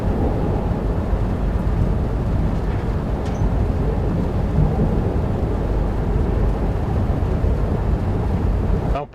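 Heavy rolling thunder in a storm in the train simulator game Train Sim World 5 with a Class 710 train, a continuous loud low rumble that stays steady for the whole stretch and then cuts off abruptly.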